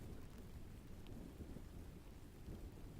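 A rain sound effect plays over a livestream: a dense, steady wash of heavy rainfall with low rumbling like distant thunder, constant and fairly soft, with no voices.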